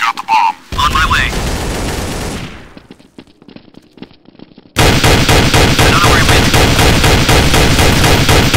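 Rapid bursts of automatic gunfire and single shots from the Counter-Strike: Source video game on Android, loud and close, with a brief quieter gap before heavy sustained firing resumes.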